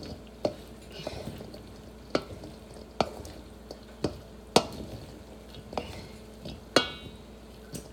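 Food is stirred and mixed in a pan with a utensil, giving sharp intermittent clacks and scrapes at uneven intervals over a soft background hiss.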